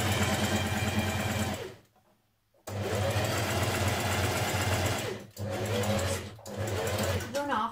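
A sewing machine runs in steady bursts while stitching a seam on a ladies' shirt, with a brief stop in the middle. Its close, continuous motor hum and rapid needle clatter carry on under occasional talk.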